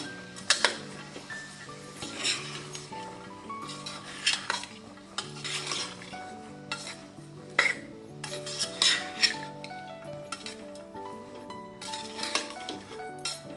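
Spoon stirring a pavta ghevda vegetable curry in a metal pot, repeated scraping and clinking against the pan in an irregular rhythm, quiet and close with no talking.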